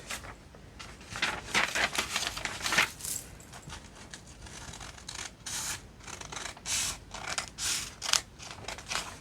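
Scissors cutting out a paper journal tag, heard as a series of close, crisp snipping and rasping strokes in irregular bursts with short pauses between them.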